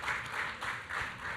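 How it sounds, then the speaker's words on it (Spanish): An audience applauds a speaker at a talk about the rebels of Asturias, a brief, soft wash of clapping heard from a distance with no voices. "Un aplauso para él."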